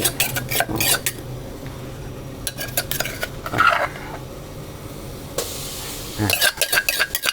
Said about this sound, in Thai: เราจะคั่วนะครับคั่วให้เครื่องเขาหอมๆก่อนนะครับ